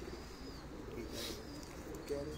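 A pigeon coos softly on a rooftop, faint and brief against quiet background noise, with a murmur of voices.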